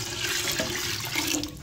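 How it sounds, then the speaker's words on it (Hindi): Water poured into a pressure cooker holding washed moong and masoor dal, a steady splashing gush that runs continuously, close and fairly loud, with no talk over it. "और साथ ही हम इसके अंदर ऐड करेंगे पानी।"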